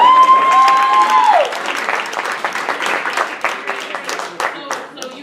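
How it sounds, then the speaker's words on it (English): An audience at a variety show breaks into applause, a dense burst of clapping and cheering that swells and then thins, with a bright tone fading out at the start. "Give the test subject a round of applause here"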